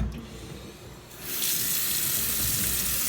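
After a quiet moment, a tap opens and water runs steadily into a sink with a bright, hissing splash.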